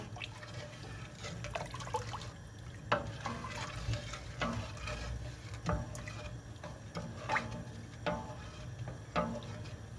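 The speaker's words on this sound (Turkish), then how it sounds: "Şiremiz kaynasın." Grape syrup (şire) simmering in a pot, with soft bubbling and scattered faint pops and ticks over a low steady hiss, quiet and close.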